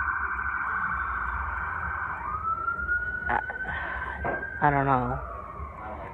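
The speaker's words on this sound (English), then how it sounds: "I know that ambulance is hauling butt right now" An ambulance siren wails steadily in the distance, holding a sustained tone as it passes, while a person speaks briefly over it.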